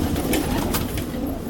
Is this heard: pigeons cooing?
yes